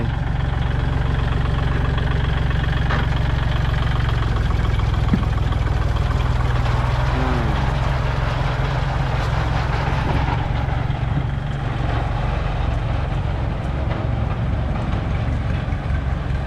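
A used Kubota L36DT tractor engine runs steadily with a low, constant rumble and mid-range drone, loud and close, with no voices.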